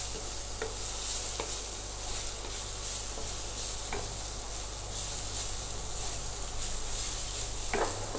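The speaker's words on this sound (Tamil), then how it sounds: "துருவின கிழங்கு நெய்யில் சேர்த்துக்கலாங்க. சேர்த்துட்டு நெய்யில் கொஞ்சம் நேரம் வதக்கலாம்." Grated sweet potato sautéing in ghee in a pan, a steady soft sizzle with occasional stirring scrapes, close and alone.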